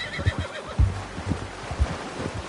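A horse in Red Dead Redemption 2 gives several close, loud neighs and snorts in short bursts, with no talking.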